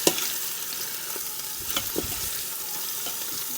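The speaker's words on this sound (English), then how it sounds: "So now the next side is seared" Short ribs sear in an Instant Pot with a steady broadband sizzle, broken by a few soft knocks and shuffles as the meat is flipped.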